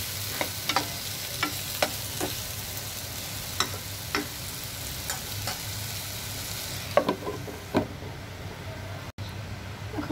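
Tomatoes with turmeric frying in a pan, with a steady close sizzle beneath repeated scraping stir strokes and a few sharper clinks spread across the stretch, no talking.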